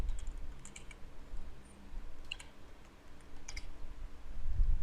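Quick bursts of keystrokes on a computer keyboard, soft and fairly close, arriving in short clusters separated by brief pauses over a low room hum.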